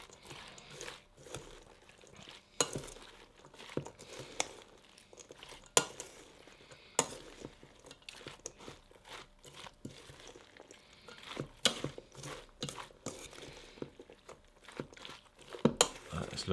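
Coleslaw being stirred in a bowl, with soft scraping and clinking of a utensil against the dish and crinkly, moist shuffling of shredded vegetables, continuing under a voice speaking.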